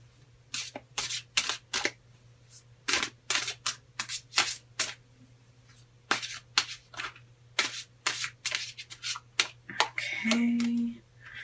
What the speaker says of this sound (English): So we're going to pull 3 cards from the Rock and Roll Tarot deck. Okay, and let's get shuffling here.